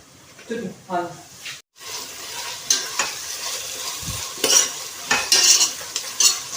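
Onion frying in a pan for chicken biryani, a steady close sizzle with repeated scraping stirs and a few metallic clinks, with brief speech early on.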